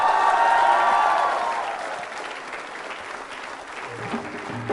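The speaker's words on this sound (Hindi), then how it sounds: "जोरदार तालियां बजाइए आप" A college quiz show crowd at a Valentine's Day event applauds loudly, with mixed cheering tones at first, then the clapping settles into a steady, slightly softer wash with faint voices near the end.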